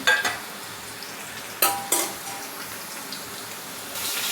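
Whole bay leaf, cinnamon, cardamom and cloves frying in oil over a low flame, a faint hiss with a few sharper clinks and stirring scrapes, quiet and close, without talk.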